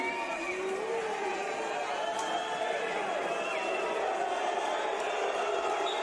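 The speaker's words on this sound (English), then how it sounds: "The crowd reacting, not liking the referee's decision" The arena crowd at a EuroLeague Women basketball game between Basket Landes and Beretta Famila Schio rumbles and calls out in disapproval of a referee's decision, a sustained murmur and shouting under a commentator's voice.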